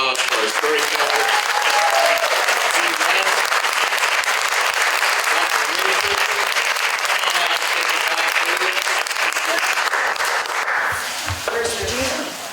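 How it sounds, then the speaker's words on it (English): A festival audience gives a storyteller a sustained, dense round of applause, loud and even throughout before tapering near the end, with a few voices faintly mixed in. "Let's have another round of applause for our storyteller."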